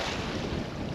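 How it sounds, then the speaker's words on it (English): Strong wind at San Luis Reservoir on a cold day, a steady roaring rush of broadband noise buffeting the microphone without letup. "Super windy today,"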